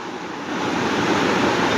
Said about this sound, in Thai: ทั้งฝนทั้งลม